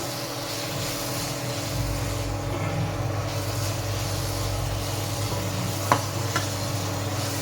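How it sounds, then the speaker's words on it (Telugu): Thinly sliced onions stir-fry in a pan with a steady, close sizzle. Mixing continues throughout, and a sharp clack of the spatula sounds near the end. "ఉల్లగడ్డలు సన్నగా కట్ చేసాం కదా, అవన్నీ వేసేద్దాము. బాగా కలపెట్టేసేద్దాము."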